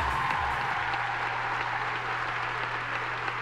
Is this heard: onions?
no